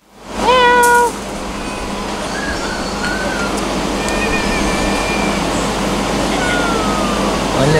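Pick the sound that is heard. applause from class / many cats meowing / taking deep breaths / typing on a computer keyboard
many cats meowing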